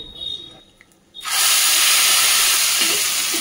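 Hot curry leaf tempering poured into coconut chutney gives a loud, steady sizzling hiss that starts abruptly after a quiet moment and carries on unbroken to the end.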